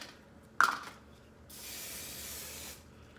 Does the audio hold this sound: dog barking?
no